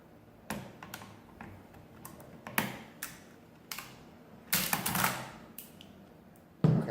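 Keys being pressed on a Sundstrand adding machine under repair, a series of irregular clacks and mechanical snaps, some sharper and louder, with a heavier clunk near the end; fairly close with no talk.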